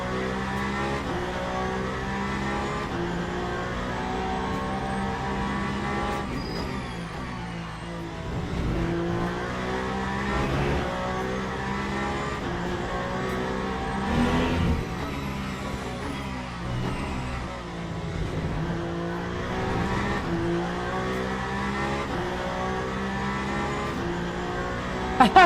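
Race car engine at Imola in Le Mans Ultimate, a loud, steady, high-revving drone that climbs and drops with gear changes and braking over a long continuous run.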